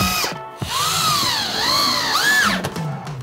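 A power drill whirs loudly up close while bolting a chimney support bracket in place for a garage rocket heater, with rising and falling motor pitch over a few bursts as the bolt drives in.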